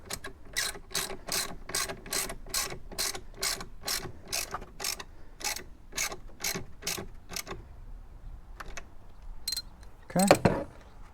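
Ratchet socket wrench clicking in fast repeated bursts of sharp ticks while working on the battery of a 2022 Hyundai Palisade, then a pause and a brief clunk of tools near the end.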